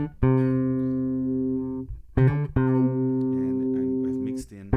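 A modular synthesizer plays a clean bass sound with no effects, loud sustained buzzy tones in a few phrases that stop and restart, with brief talking.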